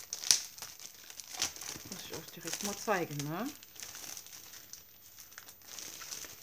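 Plastic foil crinkles and tears as craft paper is unwrapped from it, with sharp close crackles and rustling while someone talks in German.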